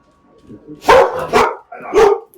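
A dog barks three times in quick, loud bursts close by, with short pauses between them and a faint voice underneath at the start.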